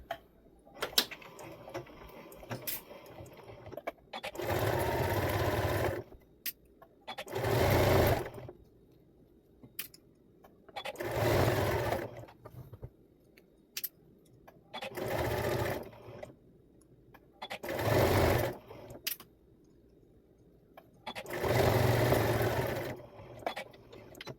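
Sewing machine stitching fabric for a cuddle kit, locking stitch at each end, in six steady bursts of a few seconds each with quiet pauses between, close and clear with no talking.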